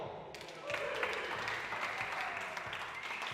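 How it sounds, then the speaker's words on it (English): A crowd at a Premier Squash League match claps steadily in an indoor hall, swelling after a quiet start and holding dense applause to the end. "Big cheer for that, come on."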